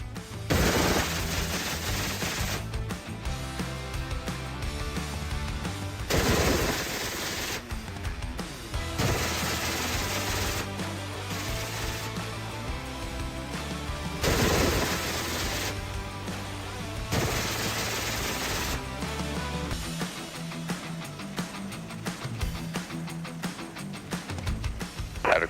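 Sustained machine-gun fire from a military Osprey aircraft, loud and nearly continuous across several long bursts, with brief pauses between them and steady aircraft drone underneath.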